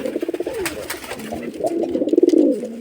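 Rajshahi Giribaz pigeons coo up close in loud, rhythmic throaty pulses, one bubbling call after another with a brief pause between, and no voices.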